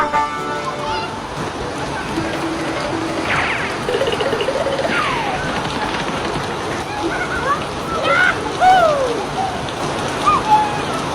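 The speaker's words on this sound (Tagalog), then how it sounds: "Ang sarap naman ng ulan, Mateo." Heavy rain pours steadily outside a house, a dense close hiss of drops splashing on surfaces, with children's voices and brief squeals rising over it.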